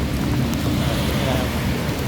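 Heavy rain pours down with rumbling thunder near a sheltered spot where solar panels are being installed, a dense, loud, constant roar of rainfall with deep low rumbles.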